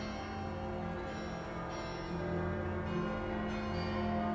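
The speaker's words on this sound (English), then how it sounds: "The bells were pealing across the city." Church bells peal across a city in a dense, continuous wash of overlapping ringing tones that holds steady and swells slightly louder partway through, with no voices.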